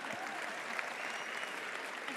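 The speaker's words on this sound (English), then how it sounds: "give your government an applause for a change" Youth audience applauding at an engagement event with the South African president, a steady, moderately distant wash of clapping that fills the whole moment.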